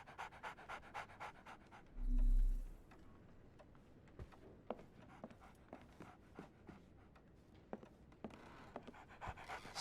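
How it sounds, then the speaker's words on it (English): A dog in the game Sherlock Holmes: The Awakened pants steadily and quickly, fairly faint and close, with a soft ticking behind it and one dull low thump partway through. "So, Barnes has a dog now. Who's a good boy?"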